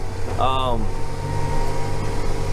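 A tractor engine runs steadily while being driven on the road at about 26 mph, a constant low drone with mechanical hum under a short voiced sound near the start.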